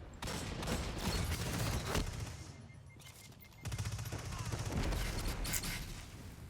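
Rapid shotgun fire in the shooter game Destiny 2, with two dense bursts of close, sharp blasts split by a brief quieter reload gap.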